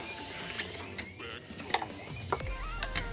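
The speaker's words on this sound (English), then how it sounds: "putting pressure on the tensional pulley to loosen up this belt" A drive belt tensioner pulley on a 2010 Honda Odyssey is levered with a socket tool, giving quiet mechanical clicks, ratcheting and a few sharp metallic ticks spread over a few seconds.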